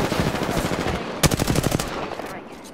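Apex Legends automatic weapon fire, a rapid burst of loud shots rattling off in quick succession near the listener, then tapering into scattered fainter shots.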